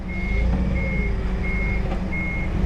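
A truck's reversing alarm beeps four times in an even rhythm, moderately distant, over a constant rumbling engine and outdoor background noise.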